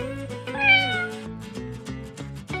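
A domestic cat gives one clear, rising-then-falling meow near the start, over steady background music with a light, regular beat.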